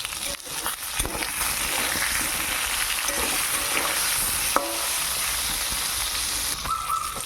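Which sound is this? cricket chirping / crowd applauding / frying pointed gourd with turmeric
frying pointed gourd with turmeric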